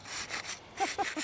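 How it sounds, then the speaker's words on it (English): Rough, rhythmic scraping of sandpaper rubbing across wood, a few close strokes in quick succession. "I am sanding it"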